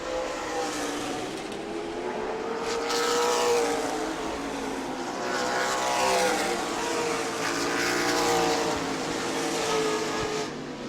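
A pack of stock race cars roars past on the New Smyrna short track, engines rising and falling in loud, overlapping waves as the field sweeps by, with no talk over it.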